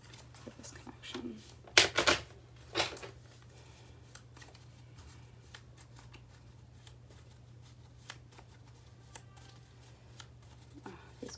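Oracle cards being shuffled in a quick burst of riffling and flapping, then a few scattered taps and light handling sounds in a quiet room.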